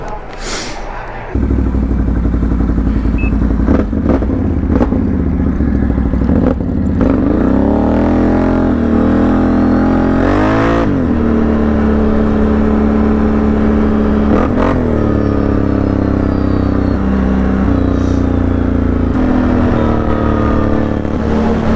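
A Can-Am Renegade 1000R ATV engine fitted with an aftermarket exhaust idles loudly and repeatedly revs up and down in close range, with a brief voice near the start.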